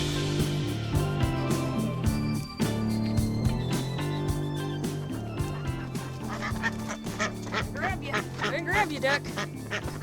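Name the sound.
duck quacking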